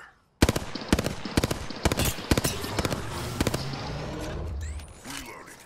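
Gunfire in Apex Legends: a rapid string of loud, close shots crackling in quick succession, then tapering off into softer distant noise, with a voice briefly speaking in the game.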